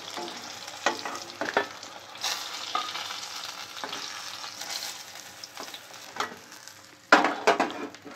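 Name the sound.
cauliflower frying in oil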